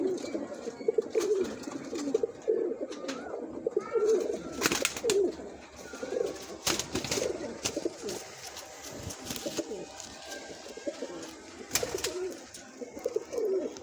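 Pigeons, including an Indian Red Tycoon breed, coo repeatedly nearby, soft throaty calls rolling on and off, with occasional rustling and clicks in between.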